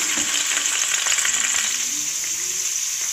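Chopped garlic, green chili and ginger hitting hot oil in a pan for pasta: a loud, continuous bright sizzle held close, with faint stirring underneath and no talking.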